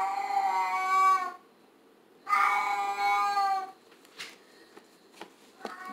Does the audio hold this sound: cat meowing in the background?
yes